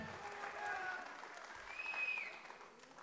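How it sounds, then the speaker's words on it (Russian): Crowd applause for the fighters after the final bout at a Berkut Cup 2013 MMA event, a steady wash of clapping from a large arena audience, fairly distant and sustained, with voices mixed in. "Поддержим аплодисментами бойцов последнего боя."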